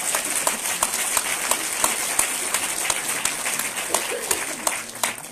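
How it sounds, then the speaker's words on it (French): A festival audience at a musical comedy event breaks into sustained applause, dense steady clapping that fills the room for several seconds, with some voices mixed in. "Donc on peut l'applaudir."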